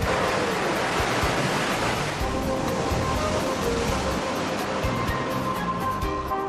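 A man-made wave rushes out from the chambers of a wave-pool machine as a steady, loud roar of surging water that runs for the whole stretch without pause.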